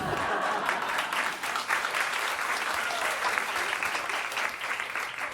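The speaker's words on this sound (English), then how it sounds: "Applause and applause." Sustained audience applause from a panel event crowd, a dense, steady wash of many hands clapping at even loudness throughout, with no voices standing out.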